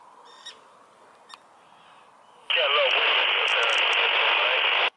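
A Retevis two-way radio crackles with a faint opening, then bursts into a loud, harsh band of static-filled transmission lasting a few seconds before cutting off abruptly outdoors at a wild camp.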